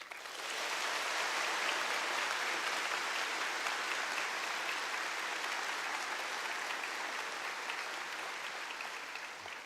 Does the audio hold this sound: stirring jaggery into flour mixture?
no